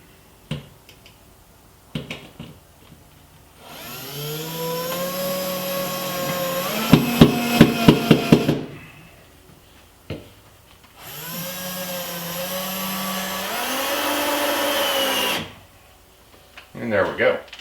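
Power drill driving number 6 wood screws into pre-drilled holes on a bracket in a workshop: two long, loud whirring bursts of several seconds each, the motor pitch shifting as the screws seat, with brief clicks and sharp ticks between them.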